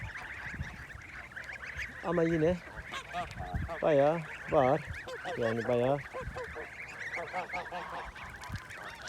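Domestic ducks and fowl call from a backyard poultry pen, honking and quacking in loud bursts nearby while someone talks over the birds.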